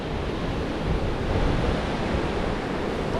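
Ocean waves washing onto a beach, a steady broadband surf roar with slight swells in loudness, mixed with wind buffeting the microphone and no talk.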